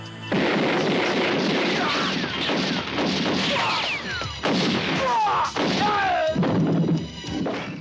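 Rapid bursts of gunfire and heavy impacts crack back and forth in a 1990 action film, loud and dense, with shouts and dramatic clatter mixed through the whole stretch.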